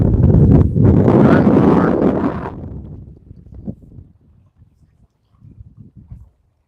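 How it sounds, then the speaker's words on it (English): Heavy wind gusts roar across the microphone outdoors during a fishing session, loud for the first few seconds, then dying down to faint intermittent buffeting. "Wind gusts are serious today."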